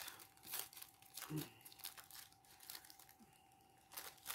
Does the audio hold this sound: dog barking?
no